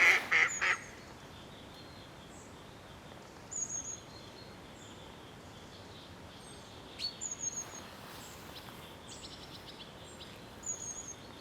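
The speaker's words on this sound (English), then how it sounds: "There's a little duck here sat on a rock." Ducks and geese calling around Loch Ness in the early morning, a loud honking burst at the start followed by scattered, fainter quacks and chirps at intervals over quiet, still air.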